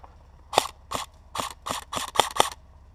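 Airsoft gun fed from an Elite Force mid-cap magazine and misfeeding, firing seven sharp, close mechanical cracks in an uneven rhythm.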